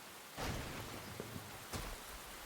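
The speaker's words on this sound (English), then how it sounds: "then we get a nice little rainstorm" A rainstorm in the video game Enshrouded hisses steadily and softly as broadband rain. A couple of brief, faint swells of rumble break through it, and there is no talking.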